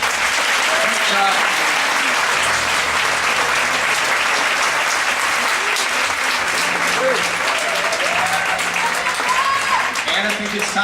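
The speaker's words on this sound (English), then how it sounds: "applause for Pilatus to stand for another recognition." An audience claps and cheers in a steady, full round of applause at a live event, with faint voices and scattered whistles rising over the continuous clapping.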